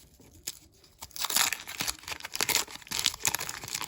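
Foil wrapping on a 1989 Topps baseball card pack is torn open, with sharp crinkling rips and crackles in quick irregular bursts, close and fairly loud.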